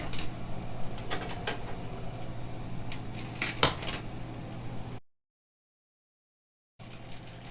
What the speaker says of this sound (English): So now, at a rolling boil, I'm going to start to put in the silverware.